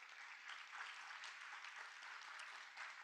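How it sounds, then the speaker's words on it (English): A quick round of applause at a summit for Goldie Scholars and alumni, a faint, even patter of many hands heard from a distance, steady for about three seconds with no voices over it. "So let's give them a quick round of applause"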